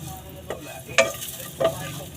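Onions sauté in a pan as they are stirred, a soft continuous sizzle with a few brief clinks and scrapes of the utensil, close by and with no voices.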